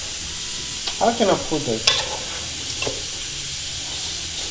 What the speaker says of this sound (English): Just frying the rice a little bit with some bay leaves.